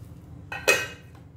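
A lid set down on a pot of chicken dum biryani gives a brief metallic clatter, a short clink followed by a louder ringing knock that fades quickly, close by in a quiet kitchen.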